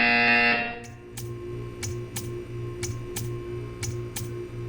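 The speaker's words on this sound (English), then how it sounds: "You will hear a buzzer." A short tone at the start, then a repeating electronic buzzer from the game Portal 2 that pulses about twice a second, clear and steady over a low background hum.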